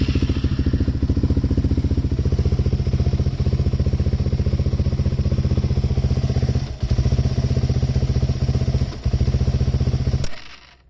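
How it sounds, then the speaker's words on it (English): A Suzuki LTZ400 ATV engine idles loud and close, running lean with a rapid, uneven chugging pulse and popping backfires through the carburetor, dipping briefly twice before cutting off at the end. "Kind of like backfires out the carburetor a little bit. Sometimes if it's really lean, it can make weird noises too."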